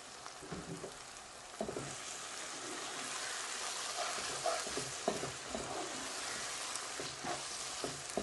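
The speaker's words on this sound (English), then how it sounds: "I'm just going to put them in whole and then just mix that in" Split green chilies are stirred into a hot frying pan, giving a steady, fairly soft sizzle with intermittent scrapes and knocks from the spoon against the pan.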